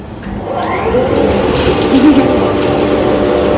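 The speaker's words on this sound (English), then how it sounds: "we use this machine that is called winnowing machine." A cocoa bean winnowing machine with a cracker runs in a chocolate workshop in Modica, Sicily, giving a loud, steady mechanical whir and hum with faint rattling, without clear talk.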